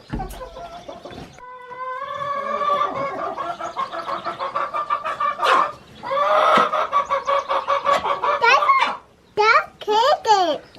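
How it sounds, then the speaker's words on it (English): Chickens cluck and squawk loudly and repeatedly at close range in a coop during egg collection, with rhythmic bursts and sharp rising calls, while a child and an adult talk. "Yeah, the chicken's being loud?"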